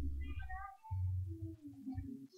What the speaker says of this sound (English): Don't step on the cat